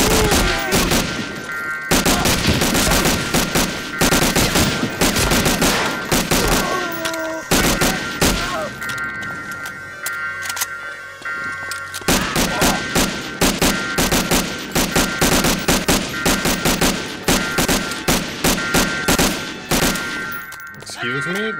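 Loud, sustained gunfire from a World War II weapon in Medal of Honor: Allied Assault, with rapid automatic bursts and booming shots that fill most of the stretch, broken by a short lull near the middle.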